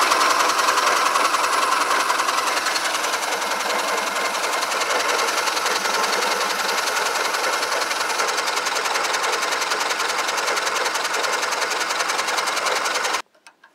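A small gasoline engine on a DR wood chipper runs steadily at high speed under hand-held throttle, a loud buzzing drone that continues for about thirteen seconds before suddenly cutting off, with no talking.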